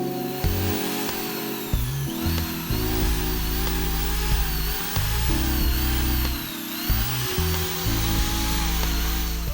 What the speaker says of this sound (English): I will strip off the rust and paint using a wire wheel.